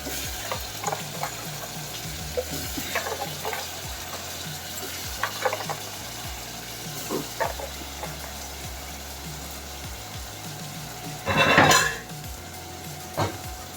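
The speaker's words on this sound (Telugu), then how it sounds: "ఇప్పుడు ఉల్లిపాయలు వేగిపోయినాయి కదా కట్ చేసి పెట్టుకున్న ఆలు వేసేసుకుందాం ఆలు కొద్దిగా ఫ్రై అయిన తర్వాత టొమాటో వేసుకుందాం" Potatoes and onions fry for aloo kurma in a pan, sizzling steadily while a spoon stirs and scrapes with scattered clinks. A louder burst of scraping comes near the end, and no one speaks.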